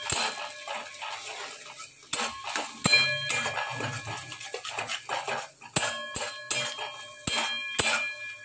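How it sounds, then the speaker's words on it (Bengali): Cumin and coriander powder stirred in a metal pan, a string of sharp spoon scrapes and clinks against the pan at an irregular rhythm, with a faint tonal hum running underneath. "এবার ভালো করে নেড়ে নেব।"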